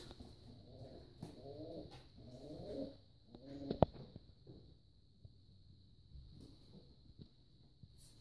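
Soft, low cooing from pigeons comes in several rounded bursts during the first half, with a faint steady whine and scattered light clicks behind.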